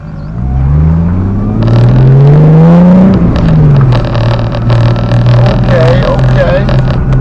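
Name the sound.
loud car exhaust while driving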